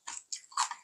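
Homemade kimchi being bitten and chewed up close, three quick crunchy, wet bursts in under a second with no talking.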